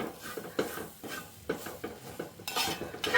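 A spoon scrapes and stirs grated coconut in an uruli pot over a flame in repeated rhythmic strokes, with soft metallic clinks and faint sizzling between them.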